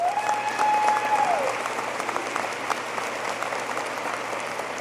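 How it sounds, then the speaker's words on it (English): A graduation ceremony audience applauds the mace bearers, a dense, sustained crowd applause that holds steady and fairly loud throughout, with a brief tonal whistle-like sound early on. "Please applaud our mace bearers."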